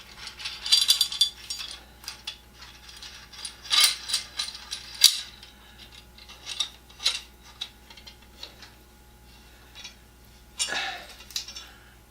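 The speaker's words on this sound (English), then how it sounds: "18-inch F-bar welding clamp" An 18-inch F-bar welding clamp slides and ratchets along its bar, giving a run of sharp metallic clicks and ticks in irregular bursts, close by and fairly quiet, with no talking.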